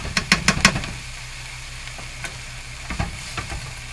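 Fresh parsley and herbs are stirred in a sizzling pan, with a quick series of scraping stir strokes at the start, then a low steady sizzle and a few scattered clinks.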